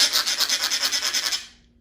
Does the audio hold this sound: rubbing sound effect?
yes